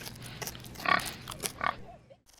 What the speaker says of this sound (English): Oink, oink.